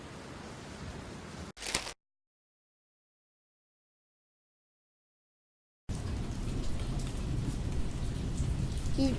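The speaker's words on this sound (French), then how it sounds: "un orage éclata. Une pluie violente se mit à tomber" Violent rain pouring steadily in a thunderstorm, a loud hiss of heavy downpour with a sharp crack early on, then a gap of silence before the rain resumes.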